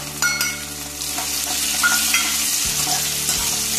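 Chopped green chillies fry in hot oil in a pan while being stirred, giving a steady close sizzle with scraping stir sounds throughout and no voices.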